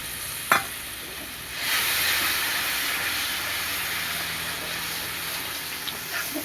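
Hot water poured into a pan of simmering whisked-yogurt curry with gandharaj lemon leaves, a brief knock followed by a sudden rise into steady, loud steamy hissing and bubbling that continues to the end.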